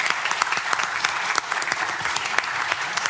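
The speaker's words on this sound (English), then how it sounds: "Let's give them a round of applause for all their effort." Steady applause fills a city council meeting chamber, many hands clapping densely and evenly for about three seconds with no break and no voices over it.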